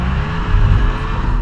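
A Toyota 2.0L Supra with a limited-slip differential slides, its engine roaring loud and close with a tight tire squeal riding over it in one brief burst.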